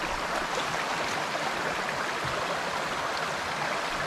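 A river flows at a rural fishing spot, a steady, even wash of running water that stays faint and continuous with no voices.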